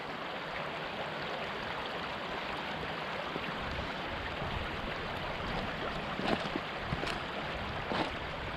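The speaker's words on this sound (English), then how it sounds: "Here's the little stream that runs by my house" A small stream runs by a house just above where it empties into Elkhorn Creek, giving a steady, full rush of water that continues without a break.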